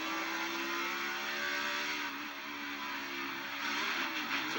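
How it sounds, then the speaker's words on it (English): Onboard sound from Joey Logano's NASCAR race car at the 2016 Miami 400: a loud, sustained engine drone with steady whirring harmonics that dips slightly midway, close and continuous with no talk. "Let's ride along with Joey Logano."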